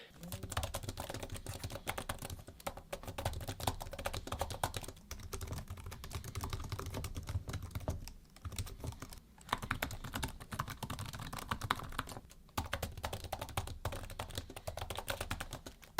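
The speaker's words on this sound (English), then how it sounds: "a great typing experience nonetheless, with solid key travel and good distinct keys" Rapid, steady typing on a Logitech Combo Touch iPad keyboard case, close up, with clicky keystrokes and a few brief pauses.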